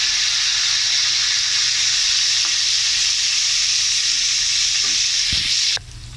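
Pork chops fry in hot oil in a pan, a loud, steady hiss and sizzle with a few small clicks and clanks, cutting off abruptly near the end to a quieter background.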